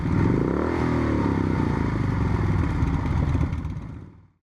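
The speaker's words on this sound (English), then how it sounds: "This is the story of the world's first true superbike, the Vincent Black Shadow." A Vincent Black Shadow, the British post-war V-twin superbike, with its engine running in a loud, steady throbbing rumble that holds for a few seconds before cutting off abruptly.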